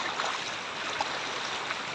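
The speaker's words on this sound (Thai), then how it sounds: "น้ำไหลเชี่ยว" Fast-flowing floodwater rushing down a city street, a dense continuous broadband roar of water that stays steady and close, with no voices.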